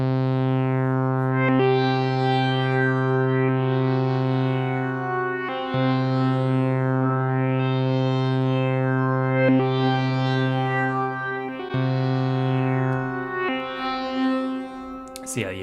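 A held C note from a Korg synth runs through the Sonicware Texture Lab schizoid granular effect, sweeping in repeated wavering pitch arcs over a steady drone, loud and alone, shifting abruptly every few seconds.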